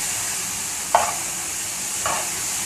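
Tomatoes frying in a pot for beef pulao, a constant close sizzle with two brief stirring scrapes.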